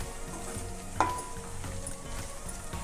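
Semiya pulao being stirred in a pan makes a soft, low sizzle with a brief utensil clink and faint scraping.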